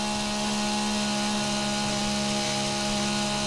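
A chainsaw in 7 Days to Die runs steadily with a constant droning buzz, loud and unbroken throughout, with no voices over it.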